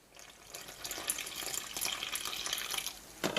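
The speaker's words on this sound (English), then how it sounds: "Now I'm going to add the water," Water poured a little at a time onto flour in a mixing bowl for pizza dough, a steady splashing trickle that builds and holds, close and clear with no talking.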